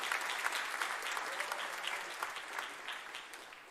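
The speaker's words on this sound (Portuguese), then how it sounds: "Você pode aplaudir o nome do Senhor por isso?" Church congregation applauding steadily during a Portuguese-language sermon, a dense even wash of clapping from many hands that holds throughout without a break.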